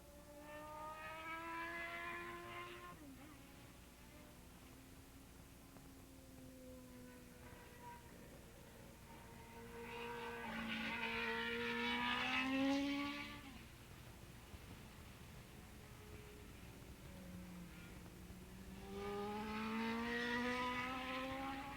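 Grand Prix racing motorcycles lap Willow Springs Raceway at an AFM Formula 1, Formula 2 and Open race, engines screaming past in three distant-to-near waves with rising and falling pitch between quieter gaps.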